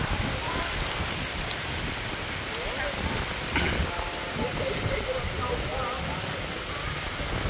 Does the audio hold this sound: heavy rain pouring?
yes